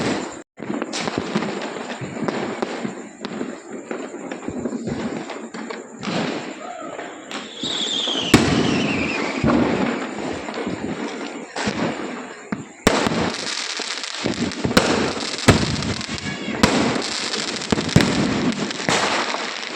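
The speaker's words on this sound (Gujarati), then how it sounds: "કેવા ફટાકડા ફૂટે છે" Diwali firecrackers burst repeatedly, some sharp cracks and deeper booms at varying distances, with a whistling rocket and people talking in the background, heard from a rooftop in Bhavnagar.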